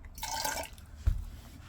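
Water is poured into a rock tumbler barrel holding polished agates, a soft liquid trickle and drip with one sharp splash near the middle, heard close and fairly quiet.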